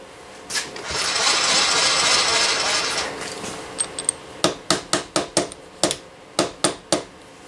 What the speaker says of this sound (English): I can't quite get it in with the hammer